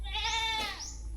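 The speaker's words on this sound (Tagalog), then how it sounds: "Mga kambing." A goat gives one clear, wavering bleat close by at a rainy house in Sara, Iloilo, rising and then trailing off over a low steady rumble.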